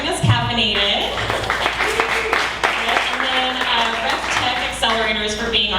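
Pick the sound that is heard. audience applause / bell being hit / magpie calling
audience applause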